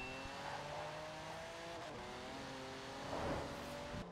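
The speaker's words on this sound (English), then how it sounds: "if we bring our Pagani Huayra up to the festival drag strip" A 2016 Pagani Huayra BC engine in Forza Horizon 4 drones steadily at close range, with harmonic pitch sweeps as it revs and shifts and a swell of power near the end.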